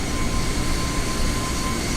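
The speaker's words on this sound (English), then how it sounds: "Engine sounds weird." A steady, loud broadband roar from the A320neo jet engine in Microsoft Flight Simulator, heard from outside the aircraft, even and unbroken with a faint whine on top and no speech.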